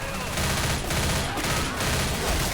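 Uzi submachine gun firing rapidly in the video game Left 4 Dead, a continuous loud burst of automatic gunfire filling the whole short stretch with no break.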